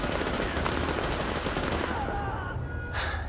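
Gunfire in the video game Tom Clancy's The Division, dense rapid automatic bursts and overlapping shots filling the whole moment, loud and close with a crowded battle din behind.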